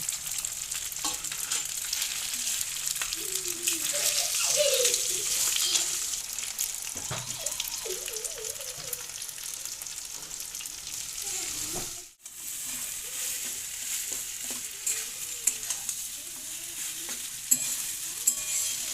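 Potatoes and prawns fry with ginger and garlic in a pan, a steady close sizzle broken by stirring scrapes and clatters, with a brief lull partway through before the frying hiss resumes.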